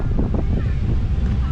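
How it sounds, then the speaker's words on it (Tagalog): Strong outdoor wind buffets the microphone with a loud, continuous low rumble and gusty roar, with faint voices partly buried beneath it. "Ay, mahangin. Ayun, yun lang ang problema, mahangin."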